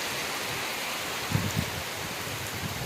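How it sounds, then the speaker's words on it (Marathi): Steady, dense hiss of heavy unseasonal rain pouring down in a village, unbroken throughout, with a few faint low thumps. "जोरदार पाऊस"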